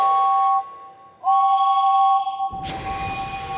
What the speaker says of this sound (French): James siffle aussi fort qu'il peut.